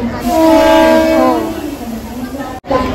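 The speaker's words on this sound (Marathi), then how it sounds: "ट्रेन आली." A train horn sounds loudly and steadily for over a second, then fades into the rumble of an arriving train, with a brief dropout near the end.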